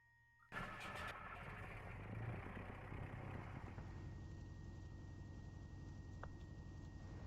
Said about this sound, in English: So to start the engine